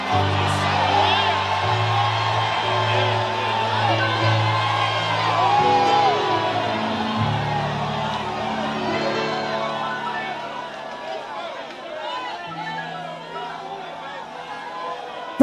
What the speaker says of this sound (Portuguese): dê um grito de glória e ao nome do Senhor